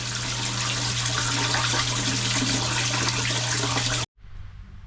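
Water runs into a fish quarantine tank for koi, a loud continuous rushing splash with a low steady hum under it, stopping abruptly near the end and leaving a faint quiet background.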